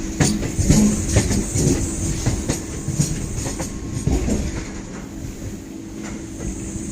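A train moving through Dum Dum railway junction, steady rumbling with rhythmic clickety-clack of wheels over rail joints and occasional sharper knocks, close and fairly loud.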